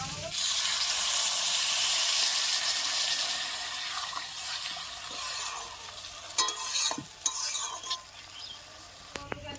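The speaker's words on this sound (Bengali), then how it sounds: "এবারে আমি পরিমাণ মতো জল দিয়ে দিই" Water poured into okra and potato curry frying in a pan: a loud hiss and sizzle that gradually settles, followed by a few stirring clatters from a utensil.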